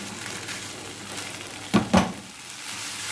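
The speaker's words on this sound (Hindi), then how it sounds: "बस इसको 4 से 5 मिनट तक भूनना है।" Black chickpeas frying in masala in a pan, a low continuous sizzle with two quick, louder stirring scrapes near the middle, no talk.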